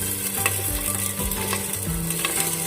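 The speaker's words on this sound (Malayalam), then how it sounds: "നമുക്ക് ചിക്കൻ ഒന്ന് പൊരിച്ചെടുക്കാം" Chicken cubes with curry leaves fry in a pan, a continuous loud sizzle broken by repeated stirring scrapes at an uneven pace, no voices.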